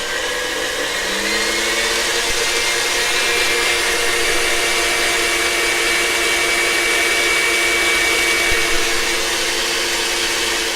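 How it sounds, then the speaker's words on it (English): An electric handheld mixer whipping egg whites for a German chocolate cake batter, a loud, steady motor whine running close and continuous throughout, with no talk over it. "You can do this with a stand mixer, which is a lot easier, or you can do it with a handheld mixer."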